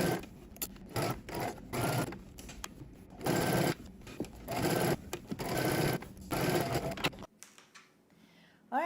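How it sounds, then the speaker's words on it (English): A sewing machine stitches a 5/8-inch seam allowance around a flounce for McCall's M8605, running in loud rapid bursts with short pauses before cutting off near the end. "now we're going to head to the sewing machine and we're going to stitch all the way around using 5/8 of an inch seam"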